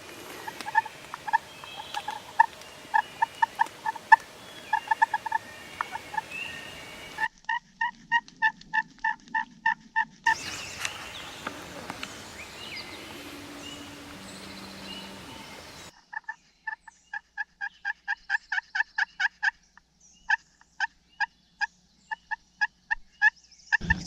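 A wild turkey gobbles outdoors in spring woodland amid a dense chorus of chirping frogs or insects, with repeated rapid calls that sound moderately distant.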